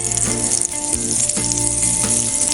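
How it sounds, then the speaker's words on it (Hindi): Chicken pieces frying in oil over a low to medium flame, a loud continuous sizzle and crackle with faint rattling from the pan, no voices. "उसी तरह इस चिकन को भी 10 से 12 मिनट लगेंगे फ्राई होने में।"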